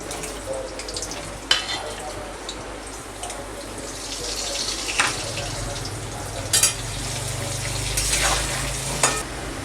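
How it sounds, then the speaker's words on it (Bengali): Potato pieces frying in hot oil with salt and turmeric for a Bengali chicken curry, a steady low sizzle with occasional scraping stirs and clinks throughout, no talking. "আমি আলুগুলো লাল লাল করে নুন হলুদ দিয়ে একটু ভেজে নেব।"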